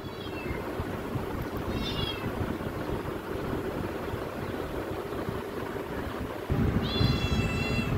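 Cats and a kitten meow at a home feeding time, short rising cries heard at intervals over a steady low engine-like hum that grows louder near the end.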